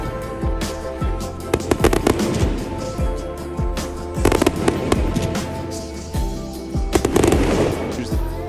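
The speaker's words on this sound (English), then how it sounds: "Fireworks on the way." Fireworks at a baseball game, a rapid string of loud bangs and crackling bursts going off in clusters across the whole stretch, with heavier volleys near the middle and end and a steady crowd roar underneath.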